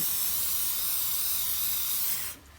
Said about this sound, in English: you don't need to watch me spraying all this around here and rubbing it off to clean it all up